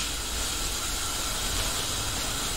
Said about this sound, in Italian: Ora si copre con il coperchio e il vapore acqueo farà cuocere la verza.